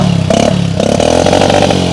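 A Discover 100cc motorcycle engine fitted in a homemade tractor starts up and revs, loud and close, with a rough clattering tone that rises and falls in short steps.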